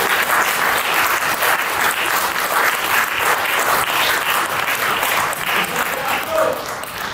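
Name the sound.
church congregation applause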